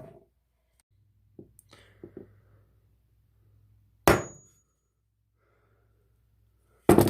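A few sharp hammer blows flattening the end of a spring taped to an aluminum flute part with no anvil, two loud isolated bangs spaced apart, plus lighter taps and faint handling noise in a quiet room.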